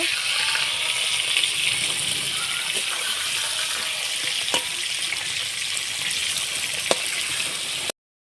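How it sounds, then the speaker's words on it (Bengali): Prawns sizzling and crackling in hot oil, a continuous frying hiss with occasional sharp pops, close by. "মাছগুলো আমার ভাজা হয়ে গিয়েছে"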